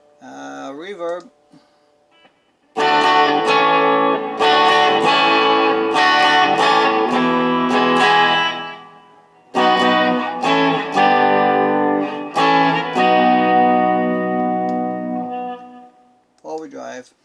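A blue Smiger S-G3 electric guitar plays clean chords through a reverb effect, in two sustained phrases whose notes ring and fade smoothly. Brief talk is heard at the start and at the end.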